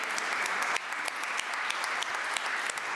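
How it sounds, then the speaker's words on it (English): An audience at a church annual conference applauds, a dense run of close, crisp claps that continues steadily for a few seconds with no talking. "Yeah, we'll clap for Madeira."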